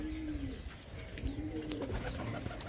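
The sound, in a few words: Andhra pigeon cooing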